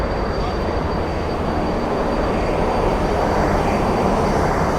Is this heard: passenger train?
yes